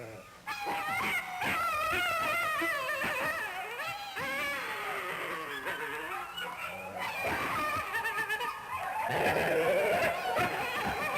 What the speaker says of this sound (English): Here, another one barks playfully with his keeper.